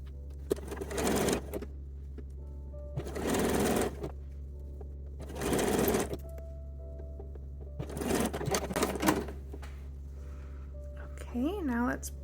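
A sewing machine stitches together the cups of an unlined teddy in four loud bursts of rapid mechanical whirring, separated by quiet pauses filled with a steady low hum. A short voiced sound comes near the end.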